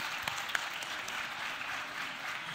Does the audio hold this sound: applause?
yes